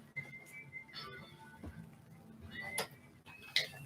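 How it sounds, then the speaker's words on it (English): A whistled melody from a song plays faintly in the background, with short bright whistle tones and a few clicks over a low murmur. "Surely the most popular song with whistling ever."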